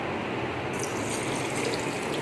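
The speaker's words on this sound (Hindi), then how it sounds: "इसमें हम थोड़ा सा पानी ऐड करेंगे।" Water pours steadily into a container of lemon and sugar for a shikanjabeen drink, a continuous close splashing gush at even volume throughout.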